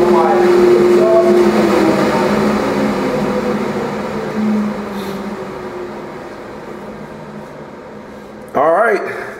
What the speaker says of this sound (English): And now turn on my exhaust.